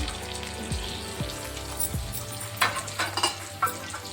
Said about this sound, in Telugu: మిక్స్ చేసి ఇంకా కాసేపు వేగనివ్వండి.